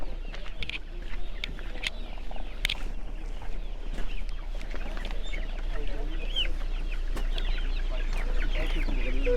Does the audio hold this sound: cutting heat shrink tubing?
no